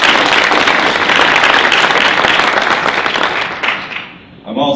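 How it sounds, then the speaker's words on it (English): Audience applause at a Black business initiative event in Washington, DC: dense, loud clapping fills the room and stays steady for most of the span, then thins and fades near the end. "Please give a round of applause."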